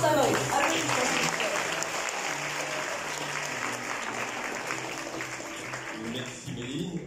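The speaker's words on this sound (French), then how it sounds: "Applaudissements." An audience at a festival closing ceremony applauds the French ambassador, sustained clapping from a crowd that stays strong before fading slightly near the end.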